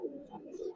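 Old-breed Giribaz pigeons give soft, low cooing in short rolling pulses, quiet and close by.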